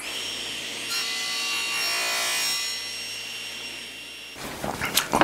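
Hand saw cutting a wooden strip for a strawberry crate shelf, a steady rasping saw stroke running for several seconds, then a few sharper scraping and knocking sounds near the end, close and alone without talk.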